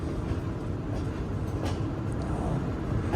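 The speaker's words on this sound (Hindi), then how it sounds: "नूर जंक्शन से ट्रेन निकल रही है।" Green Line Express train pulling out of a junction, its steady low rumble and rolling clatter filling the whole stretch, loud and continuous with no voices.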